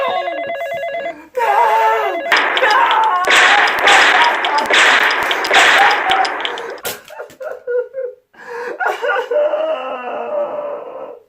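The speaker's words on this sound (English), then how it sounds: "whenever they hear their phone ringing" A telephone rings as a sound effect, with bell-like ringing tones mixed into a dense, busy burst of other effects and noise that runs for most of the stretch, loud and cluttered.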